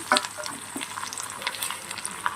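Mutton frying in a pan directly on a stovetop, a steady close sizzle with scattered crackles and pops running throughout, and no one speaking.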